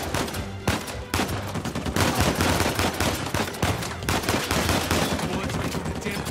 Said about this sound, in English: Am I getting shot at from out there? I bloody am.